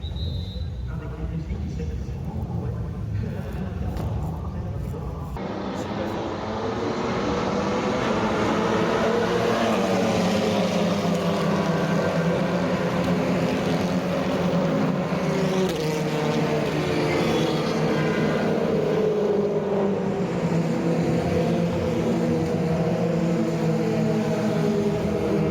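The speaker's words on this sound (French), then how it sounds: "Là on est sur le toit du paddock pour le départ du TC France" At a TC France touring car race start during the SRO Racing Festival, engines rise into a loud, sustained roar heard from the paddock roof as the pack accelerates away, with someone talking over it.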